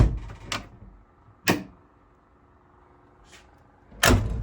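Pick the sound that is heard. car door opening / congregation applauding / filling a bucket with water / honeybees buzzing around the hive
car door opening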